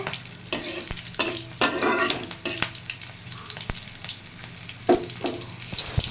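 Cumin and green chili frying in oil in a wok, a continuous crackling sizzle punctuated by repeated scraping and tapping of a spatula against the pan, close and fairly loud with no talk.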